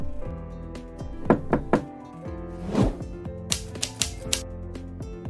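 Knocking on a door: two quick bursts of three sharp raps, then a duller thud and a further run of knocks, close and distinct against a quiet background.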